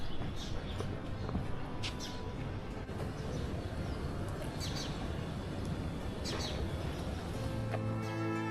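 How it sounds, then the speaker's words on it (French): Birds chirp and sing around a quiet residential complex in Kinshasa, with short high calls scattered over a steady low hum of background noise. "J'aime bien les calmes, le chant des oiseaux."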